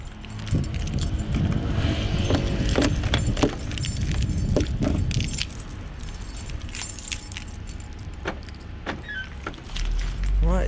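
Keys jangle and clink repeatedly, close and loud, as a plumber locks a front door on a wet London street, with faint street and car sounds behind.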